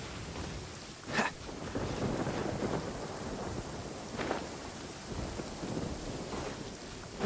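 Steady rain in Genshin Impact with sharp, brief cracks of thunder breaking through twice, fairly faint and continuous with no voices.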